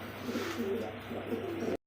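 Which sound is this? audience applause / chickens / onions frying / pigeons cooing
pigeons cooing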